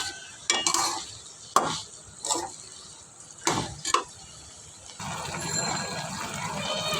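Taro stolons cooking with small shrimp in a pan give a few sharp scraping stirs, followed by a steady, soft sizzle that settles in over the last couple of seconds.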